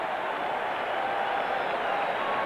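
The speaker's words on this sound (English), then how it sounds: "Crowd finally with something to cheer about." Dense roar of a football stadium crowd cheering after a Packers turnover in a 1986 Bengals–Packers game, loud and unbroken throughout.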